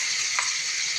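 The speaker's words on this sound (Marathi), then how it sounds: "मी आता भाजीला आहे ना फोडणी देते" Tempering of a ground paste of peanuts, ginger, garlic and coriander sizzles onto vegetables, a steady loud frying hiss with a small splutter partway through, no voices.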